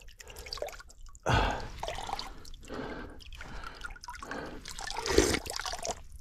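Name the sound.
water running from a small drinking fountain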